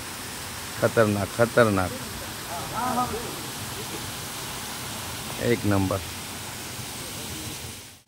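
A waterfall in Goa roars with a steady, close, broadband rush that fills the whole stretch, while voices talk loudly over it in two short bursts.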